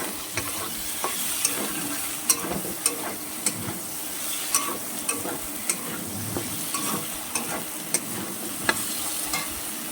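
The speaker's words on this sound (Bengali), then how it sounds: "চিংড়ি মাছগুলো নামিয়ে দিলাম কড়ার মধ্যে দিয়ে এটাকে ভালো করে ভেজে নিতে হবে" Prawns and potatoes frying in a wok (kadai), a constant close sizzle broken by regular sharp clicks and scrapes of a spatula against the pan, with no voices.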